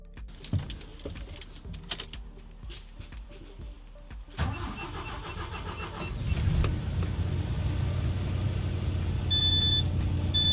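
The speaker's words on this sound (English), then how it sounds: "go start the engine and fill up the compressed air system" After scattered clicks and clunks, a truck engine cranks and starts, then settles into a steady, low idle rumble close by, filling the compressed air system.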